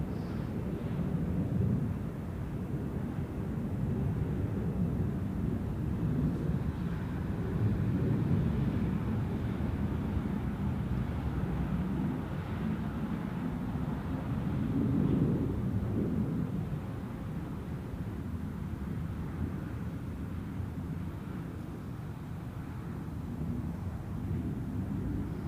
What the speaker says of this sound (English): And now we have the A321 departing to Oslo.